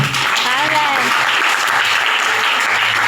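A church congregation at a French-language service applauding in acclamation, with dense, steady clapping throughout and voices rising over it near the start.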